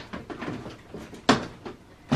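A drawer or cupboard is shut and handled with a few wooden knocks and slides, the loudest thud near the end, in a quiet room without speech.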